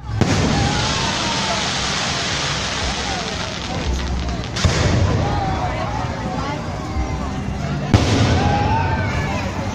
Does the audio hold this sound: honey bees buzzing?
no